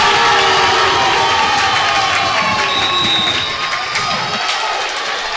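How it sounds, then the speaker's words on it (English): A wrestling crowd at a college match between UNCP and Limestone roars and cheers loudly, a dense wall of shouting that stays strong for several seconds before easing slightly near the end. "Crowd is going nuts right now."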